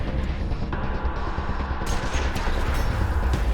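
A headshot gunshot in Wasteland 2 combat, heard as loud clustered gunfire crackles over a thick game background, with a bright burst toward the end and no talking.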